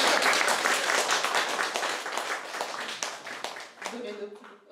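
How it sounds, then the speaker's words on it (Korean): A church congregation claps loudly at first, and the applause gradually thins and fades toward the end. A voice comes in faintly as it dies away. "박수 칩시다."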